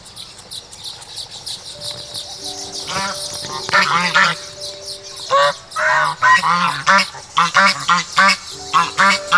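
Several adult Toulouse geese honk loudly and repeatedly nearby, harsh overlapping calls building into a noisy chorus with short bursts and pauses.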